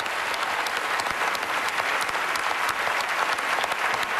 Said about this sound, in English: Give her a big round of applause as we send you off.